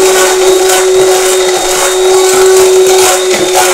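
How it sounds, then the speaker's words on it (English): Eggs and sugar are whisked with an electric mixer, a loud, steady motor whine that holds unbroken from start to finish with no talking. "Let's whisk it a bit again."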